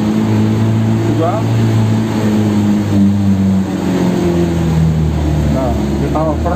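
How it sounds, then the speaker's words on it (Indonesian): A heavily loaded Mitsubishi L300 pickup climbs a fairly steep slope in low gear, its engine held at high revs in a steady, loud droning hum with a voice talking over it. "Harus RPM tinggi karena ini tanjakannya lumayan."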